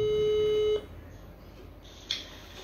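A steady telephone tone plays while a call is being placed during a live chat, then cuts off abruptly, followed by near silence and a brief high beep.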